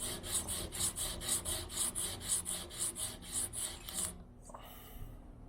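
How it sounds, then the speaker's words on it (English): Acoustic guitar part being sanded flat against a right-angle guide, a steady rhythmic rasping of roughly a dozen back-and-forth strokes, close and clear, stopping abruptly near the end. "I can push it against this and sand the bottom side"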